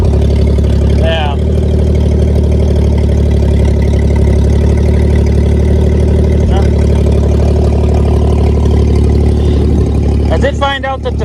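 A John Deere L130 lawn tractor engine idles with the choke off, giving a loud, steady, close-up drone with a low rumbling hum, while a few brief voice sounds come through near the start and the end.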